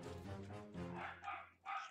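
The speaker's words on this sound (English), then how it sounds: "You may be able to hear my dogs in the background." Several dogs bark and yip in quick bursts, somewhat muffled and distant, with no talking over them.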